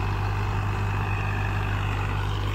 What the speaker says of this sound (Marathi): लो सेकंडमध्ये चालू आहे ट्रॅक्टर